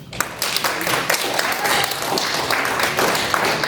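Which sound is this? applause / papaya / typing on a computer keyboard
applause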